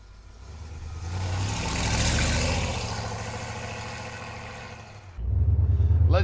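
A 1965 Ford Econoline pickup engine runs with a steady mid-range rumble, swelling as it revs for a couple of seconds, then settling before a sharper, louder burst near the end.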